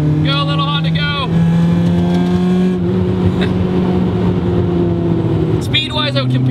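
A small front-wheel-drive Honda CRX hatchback accelerates along a curving parking-lot course, its engine note rising steadily and loud from inside the car, with brief speech heard at the start and end.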